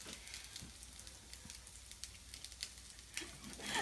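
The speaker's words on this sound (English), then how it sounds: "you can just see it sizzling away." Steady sizzling of French toast frying in a pan, a soft crackling hiss with small pops throughout, close by and with no talking.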